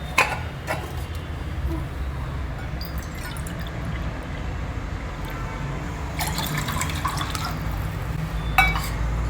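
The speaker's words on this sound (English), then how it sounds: "So for that, take 1/2 cup of curd, and to this we'll add 1 cup of water." Water is poured into curd in a kitchen to make buttermilk, giving a soft, steady liquid trickle with a few light drips and clinks of glass, fairly quiet and close.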